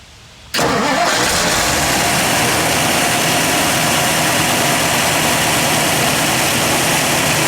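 A 1960 Edsel Ranger convertible's 292 V8 with a two-barrel carburetor and dual exhaust cranks and fires after a brief quiet moment, then settles into a steady, loud, close rumbling idle.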